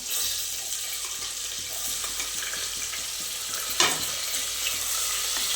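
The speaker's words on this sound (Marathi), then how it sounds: "आता हे परतून घेऊया कांदा छान लालसर होऊन द्यायचा आपल्याला" Chopped onion with curry leaves sizzles steadily in a hot pan for dal palak khichdi, a continuous close hiss with one brief stir-scrape partway through.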